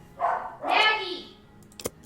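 A pet dog barks a couple of times at close range, loud and clear, followed by a short sharp sound near the end.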